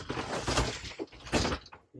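Silver sliding bathroom door in a motorhome being moved around, giving close rolling, rattling slides and a couple of thuds as it shifts.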